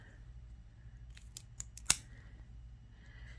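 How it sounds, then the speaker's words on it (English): Scissors snip through craft wire for a crochet bookmark, a few quiet clicks followed by one sharper, louder cut, close up in an otherwise hushed room. "I'm just going to cut some wire here."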